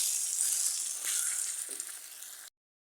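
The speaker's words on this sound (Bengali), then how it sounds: "এভাবে আমরা আস্তে আস্তে ভেজে নেব মাছের ঝুড়িটা" Shredded fish jhuri frying slowly in hot oil with gondhoraj lemon leaves, a steady close sizzle for about two and a half seconds before cutting off to silence.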